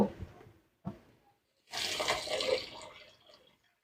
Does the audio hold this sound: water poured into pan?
yes